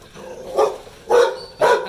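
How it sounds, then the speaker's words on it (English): A dog barks in a Brazilian favela: three separate barks spaced roughly half a second apart, fairly close and moderately loud, alone over quiet background. "A friendly dog, I hope, despite his barking."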